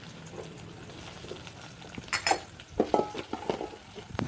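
Onion is being sautéed in a pan for aviyal: a faint sizzle sits underneath, and a spoon makes several sharp clinks and scrapes against the pan, growing louder toward the end.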